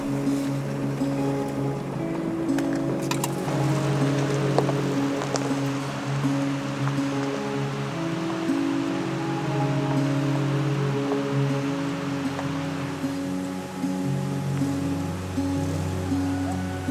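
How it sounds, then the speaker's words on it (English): A Subaru Forester fords creek crossings on a narrow mountain trail in the BC backcountry, its engine hum steady beneath continuous rushing, splashing water for the whole stretch. "we cross countless creek crossings as we climbed up the mountain"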